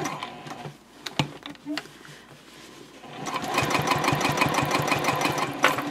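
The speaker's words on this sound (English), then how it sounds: "I just stitch 1/8 of an inch all around on that tape" A sewing machine stitching an eighth of an inch around tape on a bag: a few handling clicks and taps, then a steady, fast, rhythmic mechanical chatter running continuously through the second half, close and moderately loud.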